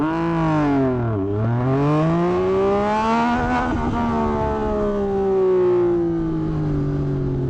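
A 2024 Yamaha MT-09SP motorcycle, dyno tuned, accelerating hard to high RPM, its engine note dipping briefly at a gear change and then climbing steadily in a loud, close, sustained howl.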